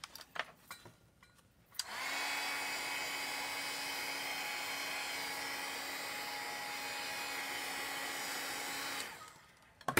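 A hair dryer blows on a chalk transfer over a board, switching on after a couple of seconds of quiet handling noise, running at a steady high whine for about seven seconds, then cutting off.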